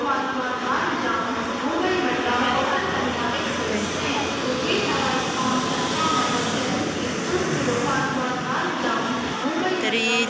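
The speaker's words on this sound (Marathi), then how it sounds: "तर आमची ट्रेन आता आली आहे फायनली" The Konkan Kanya Express train rumbles and clatters steadily alongside a station platform while several people talk nearby over the continuous noise.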